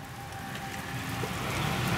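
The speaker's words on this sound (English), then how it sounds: "Wow, it's hailing outside." Hail pelting a window during a winter storm, a faint steady patter of icy drops tapping the glass with no voices.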